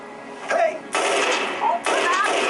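Video-game gunfire aimed at the player comes in two sustained bursts of rapid automatic shooting, loud and close, with brief voices and other game sounds in between.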